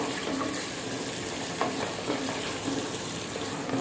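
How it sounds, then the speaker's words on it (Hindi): Onions sizzling in hot oil inside a pressure cooker, a dense, steady frying hiss held close and loud throughout, with faint stirring scrapes now and then. "अब माशाल्लाह ऑयल गरम हो चुका है, प्याज ऐड कर देंगे।"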